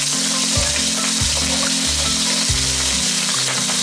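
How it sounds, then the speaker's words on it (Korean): Garlic sizzles hard in chili oil in a hot pan over high heat, a dense continuous frying hiss with steady crackle that stays loud throughout, while a low rhythmic sound pulses underneath. "고추기름하고 마늘을 볶다가요."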